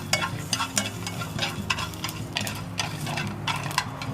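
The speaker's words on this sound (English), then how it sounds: "Just put everything in here. You're gonna be constantly stir them." Herbs, ginger and onion frying in a pot while being stirred constantly, with rhythmic scraping strokes over a continuous sizzle, close and fairly loud.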